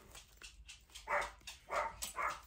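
Dogs bark outside behind a house. Several short yelping barks come in quick irregular bursts, faint and somewhat distant.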